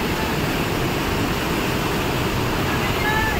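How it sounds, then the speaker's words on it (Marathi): Nanemachi waterfall pouring down hard after rain, a dense, steady roar of falling water filling the clip without pause, close and loud, with no clear talk over it. "धबधबा एवढा खतरनाक पडतोय तो,"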